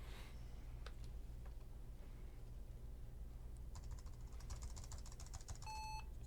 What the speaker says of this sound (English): The happiest sound in computer construction. beep, it posted.